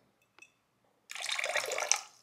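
Apple cider vinegar pours into a sink of hot water as a steady, splashy liquid stream lasting about a second, after a faint brief clink.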